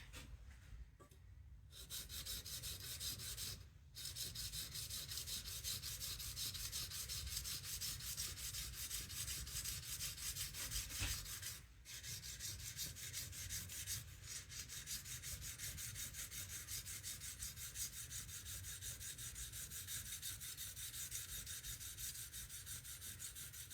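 A steel chisel bevel is worked back and forth on a coarse sharpening stone, giving a steady, close gritty rasp that runs almost without break, with two or three short pauses.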